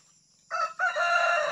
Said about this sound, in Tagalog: Ang dami palang manok ng alaga ni nanay dito.